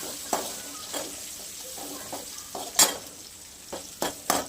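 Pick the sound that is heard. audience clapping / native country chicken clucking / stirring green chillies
stirring green chillies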